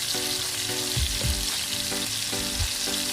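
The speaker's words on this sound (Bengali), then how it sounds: "এগুলো দিয়ে একটু হালকা করে ফ্রাই করে নিতে হবে।" Carrots, capsicum and onion stir-fry in a hot pan with a continuous loud sizzle, broken by regular scraping strokes of the spatula.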